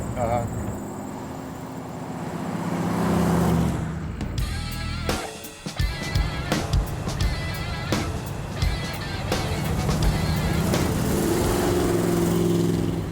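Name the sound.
Baldwin Motion Maco Shark Corvette engine running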